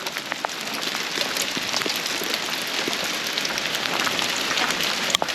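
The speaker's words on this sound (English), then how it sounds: "Everybody thinks in the Northwest that it just rains, and apparently it also hails, right?" Hail falls in the Pacific Northwest near Mount St. Helens as a dense, continuous patter of small impacts with scattered sharper ticks, steady and fairly loud throughout.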